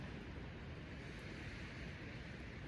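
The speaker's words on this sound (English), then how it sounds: "The wind is so gusty." Strong gusty wind buffets a backpacking campsite on a mountain ridge at Grandfather Mountain in the Appalachians, a continuous loud roaring rush that sounds like highway traffic, with no voices.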